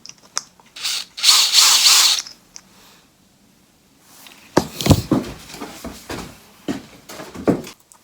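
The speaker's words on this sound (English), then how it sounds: "It would help if I used the proper Torx bit, not standard Phillips." A screwdriver fitted with a Torx bit turns a screw into a camera mount for an outdoor Wyze Cam v2 installation. The close scraping and grinding comes in bursts, with a longer rasp early and several short clicks later.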